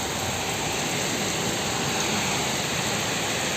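Rain pouring steadily in a park in Rize, Turkey, a constant loud hiss with no breaks and no voices.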